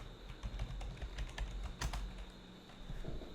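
A password being typed on a computer keyboard: a steady run of quick, close keystrokes with no voices.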